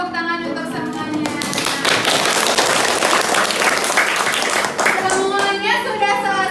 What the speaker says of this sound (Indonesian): Coba kasih tepuk tangan untuk semuanya.